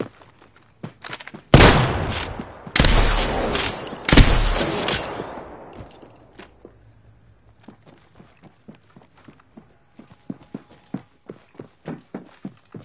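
Gunfire in Apex Legends: a single shot, then three loud, dense bursts of rapid automatic fire over about four seconds, followed by quieter scattered footsteps and clicks.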